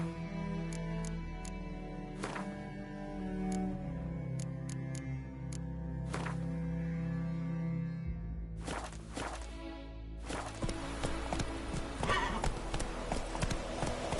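Horse hooves clip-clopping at a steady rhythm in The Witcher video game, close and clear, with a few sharp ticks and game ambience and music underneath, the pace quickening toward the end.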